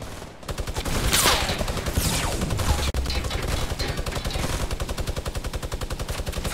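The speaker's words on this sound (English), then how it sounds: "You got a fucking minigun, dude." A minigun in a video game fires a loud, continuous rapid burst of shots, a dense, unbroken mechanical roar that runs nearly the whole clip after a brief start.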